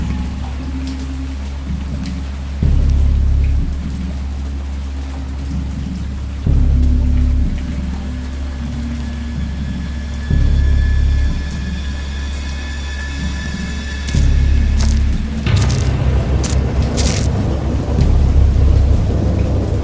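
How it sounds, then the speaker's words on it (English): Steady rain pours down while deep rolls of thunder swell and rumble repeatedly, loud and close, with a crackling burst of thunder near the end. "I heard pearls of thunder"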